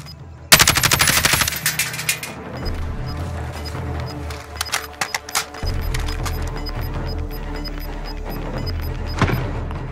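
Gunfire in the Warzone battle royale video game, a sharp burst of rapid automatic shots followed by scattered single cracks and short volleys, loud and near over a steady background hum.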